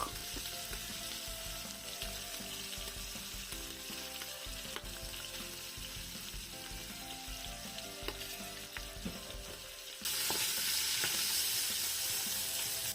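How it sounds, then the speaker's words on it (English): Goat meat fries in oil for a stew, a close, steady crackling sizzle with faint stirring, which grows sharply louder and brighter partway through. "So I will let it fry for 10 minutes."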